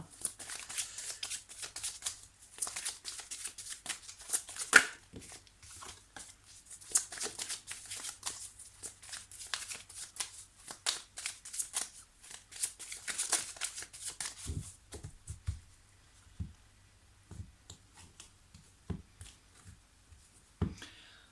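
Tarot cards are cut and shuffled by hand in quick papery riffles and slaps, close and fairly quiet, thinning to scattered soft taps and card placements toward the end, with no voice.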